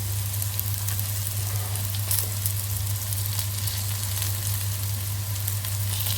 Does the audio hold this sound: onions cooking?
yes